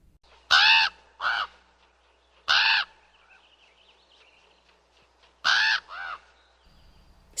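A crow caws loudly in three separated bursts, each a harsh call followed by a shorter second cry, with quiet pauses between.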